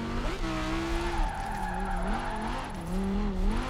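Rear-wheel-drive drift car engine screaming near 9,400 RPM in a Fanatec racing simulator game, a steady high revving drone with rising and falling pitch and faint tyre squeal, loud and continuous with no talk.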